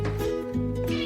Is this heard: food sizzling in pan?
no